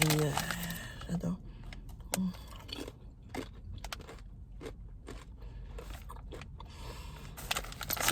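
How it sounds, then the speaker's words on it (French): Close crunching and biting of lime-flavored plantain chips, several crisp bites and chewing under a woman's speech. "je vais goûter des chips de plantain au citron"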